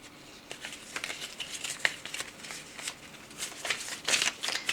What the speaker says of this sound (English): So let me give it a good shuffle here.